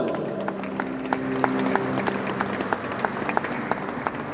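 A church congregation claps together in a sustained round of applause with some rhythmic beats and faint crowd murmur, the sound filling the room from moderate distance.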